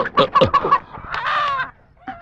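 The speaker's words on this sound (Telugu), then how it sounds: "కోడిని చూసి పట్టుకో" A chicken gives a quick run of sharp, loud clucks and then a longer drawn-out squawk, close up during a scramble to catch fowl in a Telugu action film scene.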